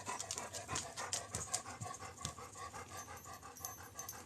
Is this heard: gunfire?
no